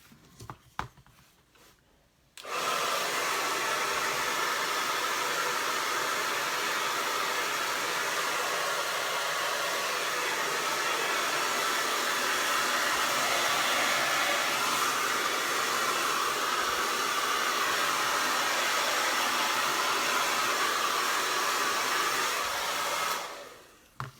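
A hair dryer blows steadily and loudly for about twenty seconds while drying acrylic paint of bluebonnets and grass painted on wood, switching on after a brief pause and cutting off at the end.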